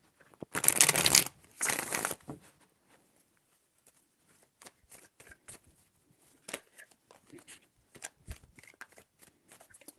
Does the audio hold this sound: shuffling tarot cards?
yes